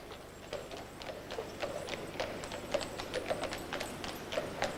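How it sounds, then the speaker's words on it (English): Working horses that pull beer carts clip-clop along a busy London street, their hooves striking the road in a steady, fairly quiet rhythm of distinct clicks over soft traffic hum. "Listen, the sound of horses in the busy streets of London."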